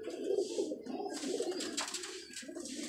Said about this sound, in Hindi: ये कबूतर देख ले